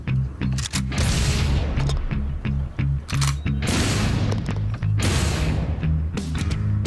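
Golf ball launcher firing many balls in quick succession: a rapid string of loud, close booming thumps with brief gaps between bursts, dominating the whole stretch.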